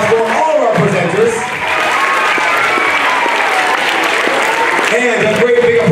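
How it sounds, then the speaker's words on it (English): At an elementary school National Day assembly, children applaud their presenters with loud sustained clapping and crowd noise, while an adult speaks over the start and end. "A big applause for all of our presenters."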